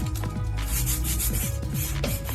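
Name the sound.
sanding painted surface with sandpaper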